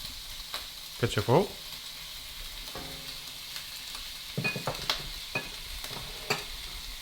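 Vegetables and garlic stir-fried in a pan for noodles, soft faint sizzling with several clattering stirs and scrapes, while a person talks over it.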